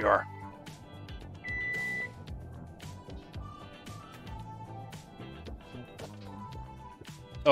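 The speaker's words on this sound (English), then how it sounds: "Timer, you're late. Where are you, timer?" A kitchen timer sounds a short electronic beep while fish sticks cook, heard once briefly beneath steady talking and kitchen clatter.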